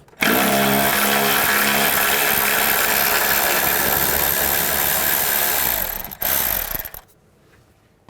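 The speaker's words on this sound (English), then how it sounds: "Now I'm going to use a 10mm socket. There's a bolt right here. Take this bolt off." A 10mm socket on a ratchet works a bolt loose underneath a 2011–2014 Chrysler 200, a steady, loud mechanical clicking and whirring close by that runs for about six seconds, breaks briefly, and then stops.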